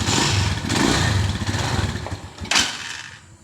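A motorcycle engine runs close by with a rough, steady rumble, briefly revving near the end before fading as it dies down, stalling when the throttle is released.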